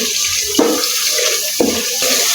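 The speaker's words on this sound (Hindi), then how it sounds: "तो इस मौके पर 1 घूंट पानी डालेंगे, ज़्यादा ऐड नहीं करना।" Water splashes into spice masala cooking in a pan for a dhaba-style aloo palak, giving a short, close pour and sizzle with a few sharp bursts and no talking.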